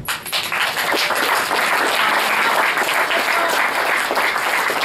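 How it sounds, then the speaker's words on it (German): Sustained clapping fills the room at a football press conference after an Oberliga match between SC Pfullendorf and SV Spielberg, steady and fairly close, with no voices over it. "das verdient, denke ich, einen Applaus"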